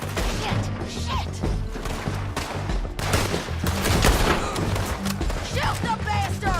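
Heavy gunfire in a Western shootout in Red Dead Redemption 2, dense bursts and crashing shots overlapping with shouted voices and a music bed throughout.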